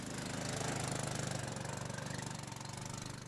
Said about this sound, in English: Through it all was the sound of 10-horse engines whining in the heat.